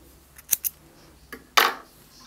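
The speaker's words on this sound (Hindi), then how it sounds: "अब हम यहाँ पर इसको थोड़ा सा बड़ा थ्रेड काट देंगे।" Scissors snip through knitting yarn, several crisp close blade clicks and cuts in quick succession, with a louder final snip.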